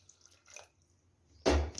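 Water poured from a vessel into spicy mutton masala cooking in a pot: a faint clink and trickle, then a loud sudden splash near the end.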